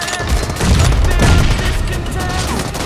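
Gunfire in a team deathmatch video game, with loud, dense shots and booms packed together over a sustained bed of battle noise, plus faint game voice callouts.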